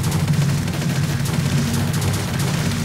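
Firecrackers going off in Minecraft, a dense, continuous crackling rattle of rapid pops and booms, loud and near, running without pause.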